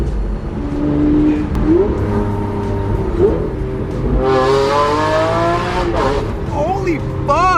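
Lamborghini Aventador engine revving and pulling through gear shifts while driving, loud rising tones broken by shift pauses, with excited voices talking over it.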